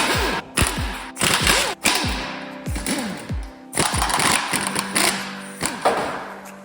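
Wrench loosening 12mm bolts from a bracket on a Nissan 350Z, a series of close, sharp ratcheting clicks in repeated bursts separated by brief pauses, with no talking.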